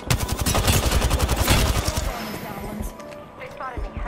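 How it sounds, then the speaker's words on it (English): Rapid enemy gunfire in Apex Legends, a dense burst of loud repeated shots for about two seconds, followed by a few scattered quieter shots and game sounds. "They spotted me, I'm taking shots."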